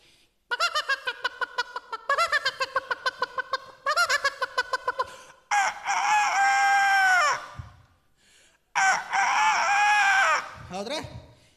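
A male mimicry artist performs a comic imitation of a chicken, voicing a run of rapid clucking bursts followed by long, loud, strained rooster crows, delivered close and alone in a stage comedy act.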